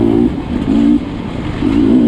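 Engine of a Beta 300 dirt bike on a trail, a loud close two-stroke drone that surges and eases in short pulses as the throttle rises and falls.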